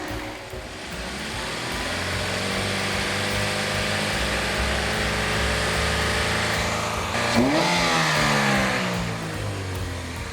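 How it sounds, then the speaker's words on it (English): Car engine running with kerosene mixed into its oil, revved several times in a loud, steady climb that holds high, then drops and surges again near the end, heard up close without talking. "let's just do a few engine revs to see if oil pressure does go up"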